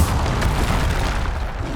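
The Bombarda explosion spell in Hogwarts Legacy, a loud continuous deep rumbling blast filling the whole moment.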